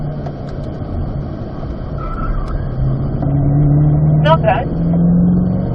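A Chevrolet C8 Corvette engine drones on a race track at a driving school, its pitch climbing through an upshift with brief tire noise. A person briefly speaks over the engine.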